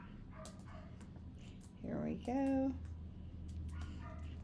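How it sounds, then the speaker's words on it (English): A dog barks and whimpers from outdoors, a few short yips and a louder bark burst in the middle, heard over a person talking nearby. "I don't know if you can hear her barking"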